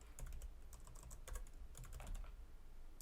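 Quick, crisp keystrokes clatter on a computer keyboard in uneven bursts, close and clear, with no voices.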